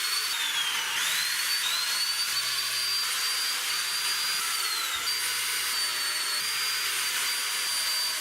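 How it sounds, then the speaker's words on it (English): A power drill bores big holes through wooden wall studs in a tiny house build, a loud, close, high-pitched whine that sags and recovers as it bites into the wood. "This is a little intimidating because I'm making big holes in my studs for the first time"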